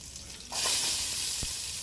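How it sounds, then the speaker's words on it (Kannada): Garlic, onion and ginger frying in a pan, a quiet background that jumps into a loud, steady sizzle midway, with a brief clatter near the end and no talk. "ಸ್ವಲ್ಪ ಹೊತ್ತು ಇದನ್ನು ಫ್ರೈ ಮಾಡುವ"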